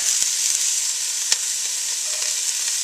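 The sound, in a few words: garlic added to sizzling onions in pan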